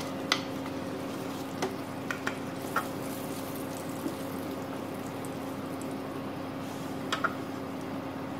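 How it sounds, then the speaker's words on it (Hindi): Chocolate melts into a sauce with desi ghee in a pan, giving a soft continuous sizzle with a few light clicks of stirring against the pan, close and fairly quiet. "ये चॉकलेट डालेंगे।"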